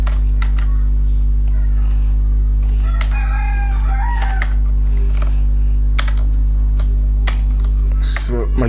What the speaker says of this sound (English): I'm using an external keyboard right now because the inbuilt keyboard is broken.